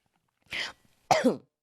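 Two short, rough coughs, close by, separated by a brief pause, the second one a bit throatier.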